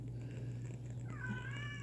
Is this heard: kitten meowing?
yes